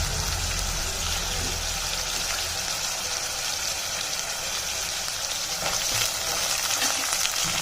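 Fresh peas and vegetables frying in oil, a loud continuous hiss and crackle that holds steady throughout with no voices.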